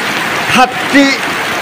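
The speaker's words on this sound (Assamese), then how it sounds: "16 ছেপ্টেম্বৰ দিনা এয়া ধাৰাসাৰ বৃষ্টি অসমত।" Heavy rain pours steadily in Assam, a dense, even hiss filling the whole clip, with a couple of brief tonal chirps or voice-like sounds rising above it.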